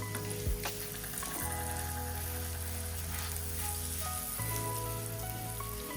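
Mashed sweet potato roasting in melted ghee for a Maha Shivratri sweet potato halwa, a steady close sizzle and fry crackle running the whole time with faint stirring scrapes.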